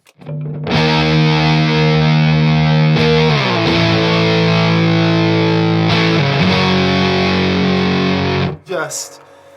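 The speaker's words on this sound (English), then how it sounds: "if I try and add that delay on top of a big overdrive sound" Heavily overdriven electric guitar through a Marshall amp and Muffroom Cloud overdrive sustains thick chords with echoing delay trails, shifting pitch a few times before cutting off.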